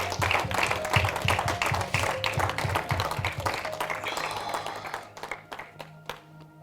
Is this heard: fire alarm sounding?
no